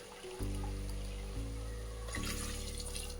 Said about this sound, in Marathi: आता याच्यात पाणी टाकून घ्यायचं आपल्याला